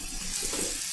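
A little water poured into an olive pickle mix, a brief steady splashing trickle heard alone and fairly close.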